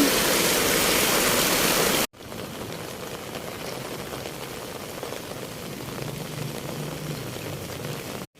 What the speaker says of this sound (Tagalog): Mga ilang araw na tayong inuulan, lagi na lang ganito, malakas ang ulan.